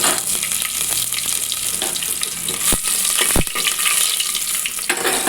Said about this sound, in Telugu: ఆయిల్ బాగా హీట్ అయిన తర్వాత చూడండి కొన్ని ఆవాలు జీలకర్ర వేసుకోండి